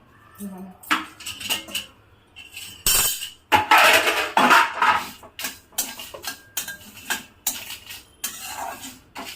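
Mango pickle mixture is stirred gently in a metal pan with a spoon, producing repeated scraping clinks and knocks in an uneven rhythm, close and fairly loud, with a voice speaking occasionally in between.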